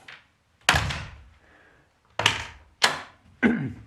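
A wooden door being shut during a stone-walled house renovation, giving four solid thunks: one at first, then after a pause three more in quicker succession, each with a short rattling decay.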